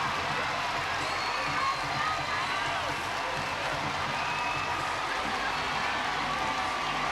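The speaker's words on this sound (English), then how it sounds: "Standing ovation for the senior, Darian Goburn." A college gymnastics meet crowd in an arena, Penn State at Auburn, gives a standing ovation to a senior gymnast: a dense, continuous roar of applause and cheering that fills the whole stretch.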